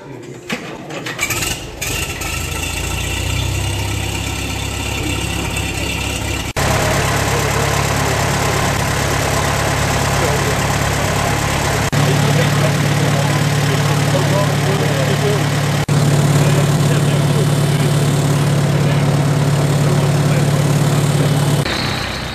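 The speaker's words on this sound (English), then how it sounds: "this time we're going to use the petrol paraffin tractors," International Harvester W6 and W4 petrol paraffin tractor engines running during a drawbar test, a loud, steady mechanical chug with low idling tones that shift and rise partway through, continuous and close.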